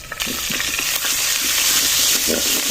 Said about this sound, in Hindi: ऐसे भूनेंगे अदरक लहसुन के पेस्ट को।